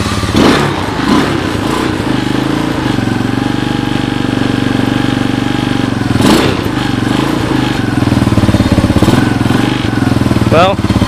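A 1986 Honda TRX200SX ATV sits running after a cold start, its small single-cylinder engine idling with a steady putter and a few brief revs, close by.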